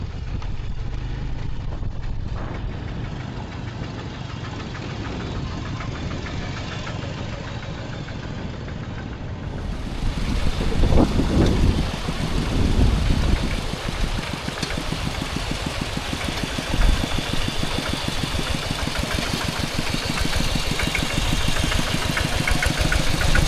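A walking tractor's engine runs steadily on a rough rural village road, a loud continuous chugging rumble that grows rougher and louder partway through, with no talk.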